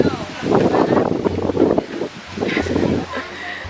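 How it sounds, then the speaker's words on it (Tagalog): Strong wind buffets the microphone in steady rumbling gusts, with people talking over the roar. "Sobrang mahangin."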